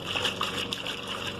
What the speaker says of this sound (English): Put the washing up liquid into your container, give it a good stir